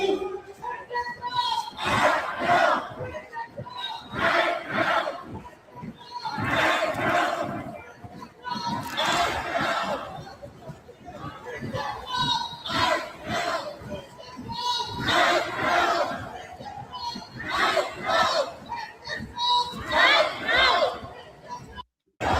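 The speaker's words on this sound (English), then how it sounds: "That's a huge crowd." A huge crowd at a rally shouts and chants in repeated surging waves, dense massed voices rising and falling.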